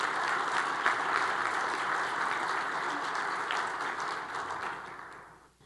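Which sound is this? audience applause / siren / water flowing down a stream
audience applause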